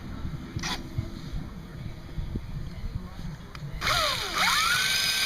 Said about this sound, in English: a little center punch was used to locate the drill bit to drill the pilot hole, which will start now.